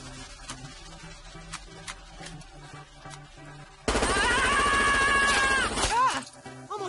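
Cartoon gun firing in an animated American Dad scene: a run of sharp, rapid shots in quick succession, followed by a loud, sustained ringing burst with wavering tones before it cuts off.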